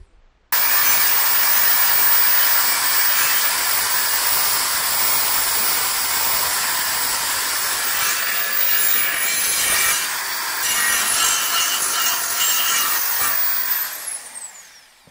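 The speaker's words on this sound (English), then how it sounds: "So it's croc sander time on this." A croc sander works over the steel floor of a Mk3 Cortina under restoration, giving a loud, continuous abrasive hiss that starts abruptly and runs steadily for about thirteen seconds before winding down, with no voices.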